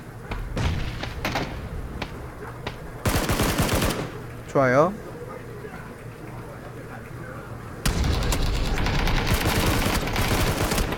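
Bursts of rapid gunfire and sharp blasts crackle in short spurts, separated by quieter stretches, while a voice talks over the action.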